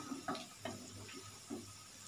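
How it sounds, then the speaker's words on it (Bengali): Cabbage fritters frying in a pan give off a faint, soft sizzle, with a few quiet clicks and scrapes as they are nudged and turned. "দেখতে পাচ্ছ আস্তে আস্তে এগুলো ভাজা হচ্ছে"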